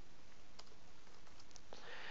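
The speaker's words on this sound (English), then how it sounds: "Sorry for my typing skills." Quick, light keystrokes tap on a computer keyboard in an irregular burst of clicks over a steady background hiss, with no voices.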